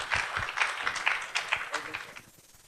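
Conference audience at an international legal event applauds a Lifetime Achievement Award recipient, with dense clapping for about two seconds that then fades out.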